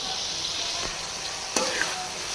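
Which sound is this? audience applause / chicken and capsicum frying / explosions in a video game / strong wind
chicken and capsicum frying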